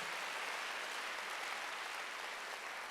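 A large congregation at a Korean church worship service claps continuously, a dense, steady wash of applause that holds at an even level with no break.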